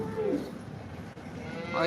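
A cow lows at the Modnimb livestock market, with a couple of drawn-out moos standing out near the start and again at the end over a steady murmur of voices and market bustle.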